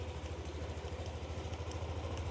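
A Yamaha Aerox 155 scooter engine idles steadily up close, its low, even putter pulsing in a quick regular rhythm with no voices over it.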